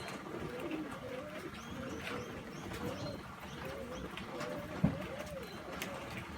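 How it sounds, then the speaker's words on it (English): Wild pigeons or doves at a backyard feeding spot coo softly and repeatedly in a gentle, rolling rhythm. Faint chirps and a single sharp tap come near the end, over low background noise. "How lucky we are to have beautiful birds like this. Beautiful wild birds come in."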